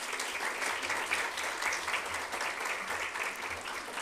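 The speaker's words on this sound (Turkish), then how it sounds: "Onlara en büyük alkış." Audience applause at a closing session of a digital transformation event at Üsküdar University's Faculty of Communication, a steady even wash of many hands clapping throughout.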